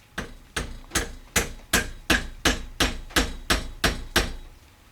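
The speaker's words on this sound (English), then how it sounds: "Put your wheel on, axle in, and nail it home" A hammer drives a nail axle into a pinewood derby car, about a dozen sharp, evenly spaced close blows in a steady rhythm with no talking.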